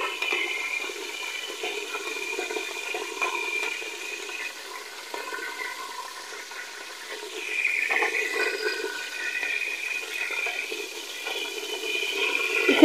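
Garlic-ginger paste with cumin seeds frying in hot oil, a steady close sizzle and crackle that swells slightly midway, with no talking.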